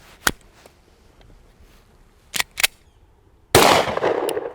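A Glock 43X pistol fired while zeroing: a single sharp report, then a quick pair of shots, followed by a louder burst of noise with a decaying tail, heard outdoors without talk.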